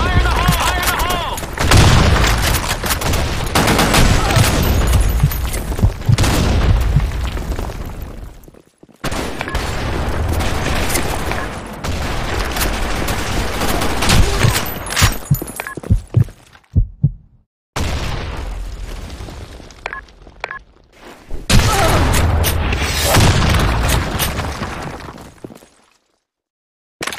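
In a video game, a grenade blast and gunfire come through as loud, dense bursts of explosions and shooting in long stretches broken by sudden short silences.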